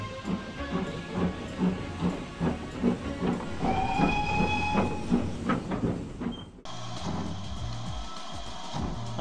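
A steam-era passenger train pulls away with guests aboard, chuffing rhythmically with hissing steam and a brief whistle, a steady mechanical rumble carrying through the scene before the sound shifts abruptly near the end.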